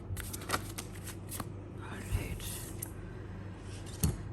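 Tarot cards shuffled by hand in a quiet room, a soft riffling flutter with a few sharper snaps, close and fairly faint, while a voice talks.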